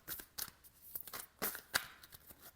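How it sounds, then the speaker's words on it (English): A deck of cards is shuffled by hand in a quiet room, giving close, papery riffles and soft slaps in several uneven bursts, fairly faint and with no talking. "I will shuffle the deck here."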